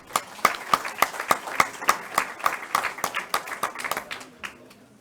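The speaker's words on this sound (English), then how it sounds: "Give yourselves a round of applause." Applause from delegates at the close of an international conference on the Rohingya crisis in Bangladesh; fairly sparse, distinct handclaps in an irregular rhythm from a modest crowd, slowly thinning toward the end.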